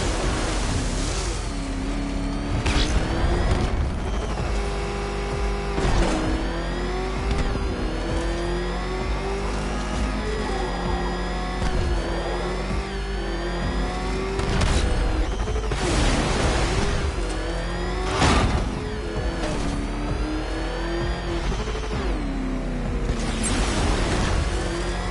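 A car engine in the video game Batman: Arkham Knight revs hard and continuously, rising and falling through repeated gear shifts, loud and close for the whole stretch, with no speech over it.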